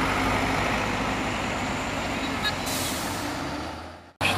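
A trailer truck turning around on a steep hill, its engine rumbling loud and continuous with an air-brake hiss partway through before the sound suddenly cuts off.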